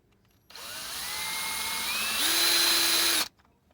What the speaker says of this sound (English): And you want to keep the drill as straight as you can.